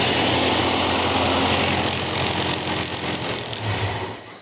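A carbureted engine drops back to idle, a loud, steady close-up roar that eases slightly toward the end.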